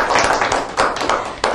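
Audience at a TV game show for women clapping together, a short burst of close, rhythmic hand claps with a few louder beats, no talking over it.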